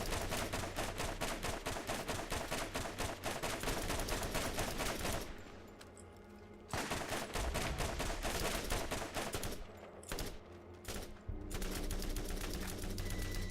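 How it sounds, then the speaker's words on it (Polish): Rapid automatic gunfire in the video game Borderlands rattles in long, loud bursts, broken by two brief pauses before the firing resumes. "Widzę, strzelam."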